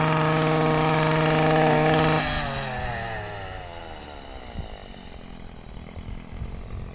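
A motorized mower cutting alfalfa in a farm field: a loud, steady high-revving engine whine with dense buzzing harmonics that drops in pitch and level after a couple of seconds, then keeps running unevenly nearby.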